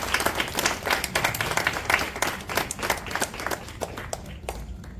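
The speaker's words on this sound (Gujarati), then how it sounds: "તો આપણે તેમને એકવાર તાળીઓના ગડગડાટથી વધાવી દઈએ." An audience at a satsang gathering in Nikol bursts into applause, dense rapid clapping from many hands that stays loud for several seconds, then thins out toward the end.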